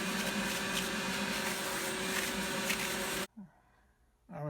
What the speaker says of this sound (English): Now we'll get the shop vac and vacuum all that off.